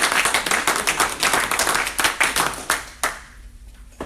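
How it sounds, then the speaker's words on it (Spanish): A church congregation claps in a quick, rhythmic burst of applause, loud and close, dense for about three seconds before tapering to a few scattered claps. "Vamos a un aplauso por esa palabra."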